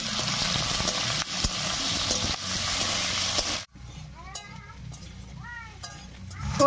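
Potatoes fry in hot mustard oil with whole cumin and bay leaf, giving a loud, dense, close sizzle that cuts off abruptly partway through. A quieter stretch follows with faint scattered sounds and brief voice-like calls.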